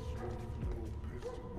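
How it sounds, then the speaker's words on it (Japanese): Dogs barking in the horror video game Jawbreaker: short yips and bow-wow barks, moderately loud, under a dense, noisy game soundscape. "うわ、犬の鳴き声するぞ。"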